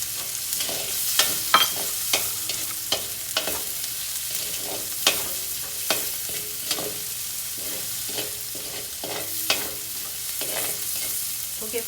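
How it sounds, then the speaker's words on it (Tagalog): Onion sautéing in a pan for goat kaldereta, a steady sizzle broken by repeated sharp scrapes and clicks of a spatula stirring, close and fairly loud, with no talk. "now it's time to saute the onion"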